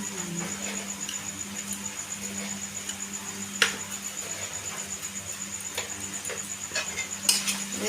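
Flattened rice pulao with salt and dry sugar is turned in a pan, giving a soft continuous scraping hiss with a few sharp metallic clinks of the spoon against the pan, close by and with no talking.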